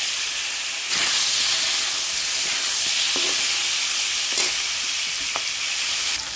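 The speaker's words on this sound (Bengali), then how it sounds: "আর এদিকে দুটো মাছ ভাজা হচ্ছে" Two fish fry steadily in a pan, a loud continuous sizzle and hiss with a few small pops and clicks throughout.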